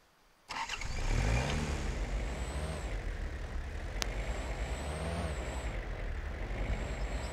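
A summoned car in the hunting game Way of the Hunter starts up and drives, a steady engine rumble with a sharp hiss and faint tonal whines, following a brief quiet start.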